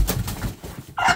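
An old black hen clucks in a farmyard coop, a few short throaty clucks up close over low rustling, ending in a sharper, brighter call.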